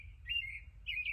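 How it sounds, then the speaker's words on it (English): A robin delivers its territorial song in two bright, clear chirping phrases separated by a short pause, close and distinct over a low, steady background rumble. "when birds sing like this, that they're actually singing their territory area for their nesting"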